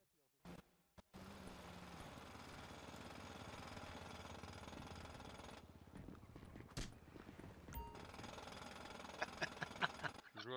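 A jackhammer in the video game GTA pounds in a loud, rapid, continuous rattle for several seconds, then cuts off and restarts in bursts.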